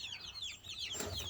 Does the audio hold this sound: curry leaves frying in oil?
no